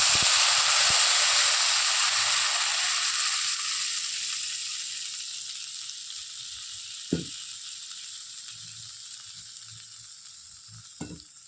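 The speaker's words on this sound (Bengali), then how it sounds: "জলটা ফুটে উঠেছে" Water heats in a pot for a mustard tilapia curry, making a broad boiling hiss that starts loud and gradually fades, with two sharp knocks later on.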